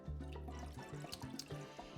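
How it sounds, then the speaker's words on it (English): Water pouring into a saucepan holding a half stick of butter in a kitchen, a short close splashing gurgle with bubbly watery bursts and light clatter. "we're gonna add our half stick of butter and our cup of water into the same saucepan"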